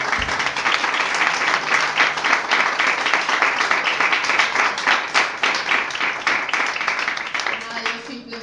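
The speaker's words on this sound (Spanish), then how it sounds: "pido un fuerte aplauso para Arola Mola" An audience at a book presentation breaks into loud, continuous clapping that holds steady for several seconds, with a few voices mixed in near the end.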